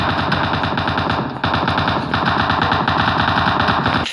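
Loud, sustained automatic gunfire in the PUBG video game, a close rapid stream of shots with one brief break partway through.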